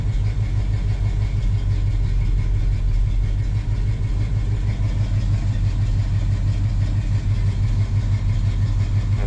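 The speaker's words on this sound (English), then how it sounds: "Idling down a little. It's running a little rougher," A truck engine idles steadily at close range, running a little rough with a low, continuous throbbing rumble and no speech over it.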